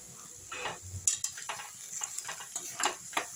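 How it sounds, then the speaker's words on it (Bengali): Khesari greens and onion stalks being stirred in a wok, with a string of scraping, clinking utensil strokes against the pan at a close, moderate level and no talk. "দিয়ে একটু নেড়ে নেবো এইভাবে।"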